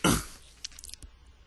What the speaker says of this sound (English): You have to excuse my coughing and scratchy voice.